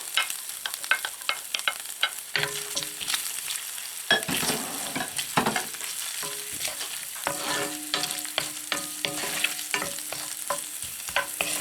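Garlic fries with ginger in a pan for a coconut milk white adobo, a dense, continuous crackling sizzle broken by stirring scrapes and clicks, close up and fairly loud, with no voices.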